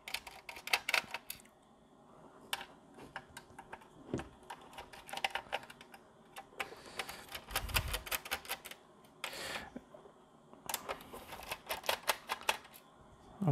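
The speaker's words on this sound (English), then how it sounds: "Okay, let me quickly unscrew this." Screws are backed out of the case of a Wyse thin-client terminal with a 2-core AMD processor, a steady run of close, crisp mechanical clicks and ticks that arrive in bursts with brief pauses, with no one speaking.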